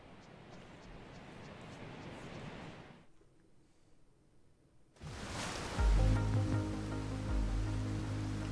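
Rushing, hissing water from a waterfall in the video game Tunic, a broad steady roar that drops quieter briefly midway, then returns louder and fuller alongside tonal game music.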